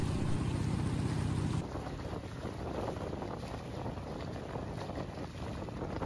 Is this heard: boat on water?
yes